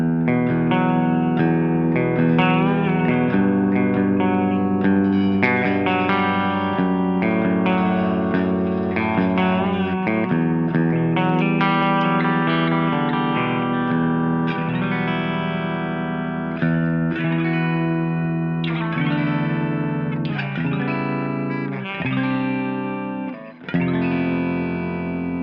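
An Epiphone Explorer electric guitar on its bridge pickup through a clean amp and cabinet simulation, playing a continuous run of chords and notes with reverb and echo, steady and close with no talking.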